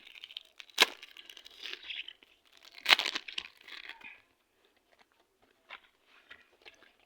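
A football trading card pack being torn open, with crisp crinkling foil and two sharp ripping bursts, followed by quieter scattered rustles as it is handled close up.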